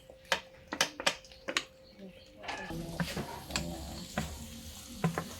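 Garlic sizzles in a hot pan for Cajun seafood, with several sharp clattering stirring knocks early on and then a steady frying hiss. Bursts of cooking sound come through close and moderately loud.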